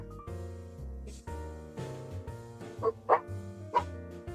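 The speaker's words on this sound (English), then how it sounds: "Our dogs are just loud." Household dogs barking and yipping in a few sharp bursts in the background, loud peaks standing out over steady game music.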